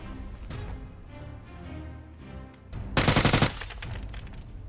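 Video game gunfire: a loud rapid burst of automatic shots cuts in midway over a low background soundtrack, then fades back.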